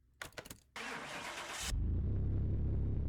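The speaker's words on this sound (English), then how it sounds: "let's get this one started and see if they've added any new engine sounds" A car engine in the video game Car Mechanic Simulator 2021 cranks with a few short turns, catches with a burst, then settles into a steady, loud low idle.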